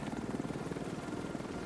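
A helicopter in a video game thrums with a loud, steady rotor chop, close and continuous, with the rhythmic blade pulses filling the whole moment.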